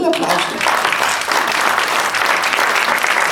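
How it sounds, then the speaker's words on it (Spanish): A church congregation breaks into loud, sustained applause, a dense wash of clapping that fills the room from start to finish with no one speaking over it. "denle aplauso"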